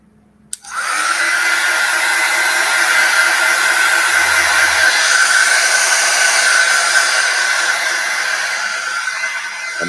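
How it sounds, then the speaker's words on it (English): A hair dryer switches on after a click and blows with a steady, loud whoosh for the rest of the clip, drying sculpting paste. "I need now some a little bit dry with the hair dryer"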